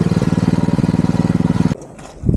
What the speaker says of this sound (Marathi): पावर ट्रिलर अडकून राहिला हा बघा इथे दलदलीमध्ये मध्ये फसलाय